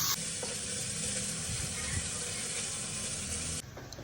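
Sliced onion fries in hot oil in a cooker, a steady close sizzle with faint clinks that cuts off sharply near the end.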